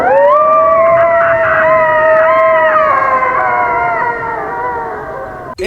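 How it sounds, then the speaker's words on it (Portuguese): A coyote howls in long, wavering rising and falling tones, with several voices layered together in a sustained chorus that fades near the end before a brief sharp noise. "Esse é o som do coiote."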